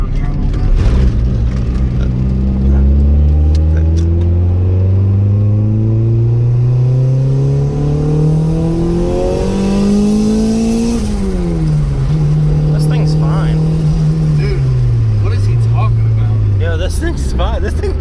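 A turbocharged Honda Civic EG on a test drive accelerates hard through several gears, its engine pitch climbing and dropping at each shift, loud and close from inside the car, with voices talking over the engine.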